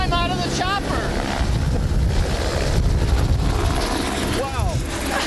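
A helicopter at a helipad roars loudly and steadily from start to finish, its dense rotor and engine noise filling the scene while voices talk over it.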